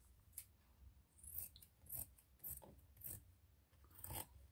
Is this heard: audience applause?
no